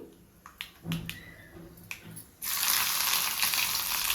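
Tempering spices crackle and pop in hot oil for a South Indian curd rice, a few sharp sputters at first, then a loud, steady sizzle rushes up as finely chopped ginger hits the pan.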